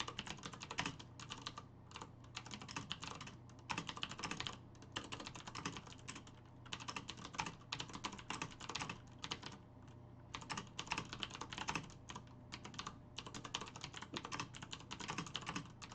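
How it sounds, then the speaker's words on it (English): Fast, continuous typing clatters on a computer keyboard, close and fairly quiet, with brief pauses between bursts of keystrokes. "Sorry for all the typing."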